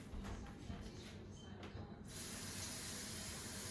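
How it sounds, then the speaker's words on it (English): Water runs steadily from a kitchen tap into a two-cup measuring cup, a hissing splash that grows louder and brighter partway through as the flow increases, with no talk. "Let me step over here and grab a 2-cupper, and we will get some water."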